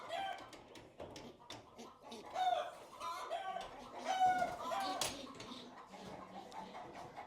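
Backyard chickens clucking and squawking repeatedly while young birds are being vaccinated, fairly faint and scattered bursts with a rooster-like crow, people talking quietly in between.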